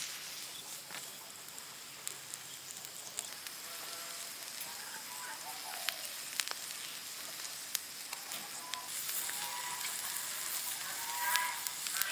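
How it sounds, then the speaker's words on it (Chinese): A three-jin leg of lamb roasting slowly over low charcoal heat hisses and sizzles as fat drips, a steady quiet crackle with scattered sharp pops, no voices. "烤得冒油了"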